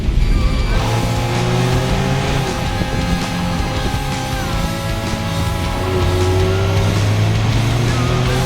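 A Jaguar XE R-Sport accelerates hard from inside the cabin, its engine note loud and steady with rising harmonic pitch sweeps as it pulls through the gears, continuous throughout with no talking.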